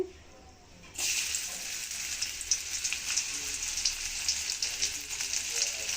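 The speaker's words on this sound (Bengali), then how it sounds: "এখন আমি দিয়ে দিচ্ছি রসুন আমি থেতো করে নিয়েছি এখানে" Crushed garlic dropped into hot oil in a pan. A near silent moment breaks into a sudden loud, crackling sizzle that keeps hissing steadily, with scattered pops.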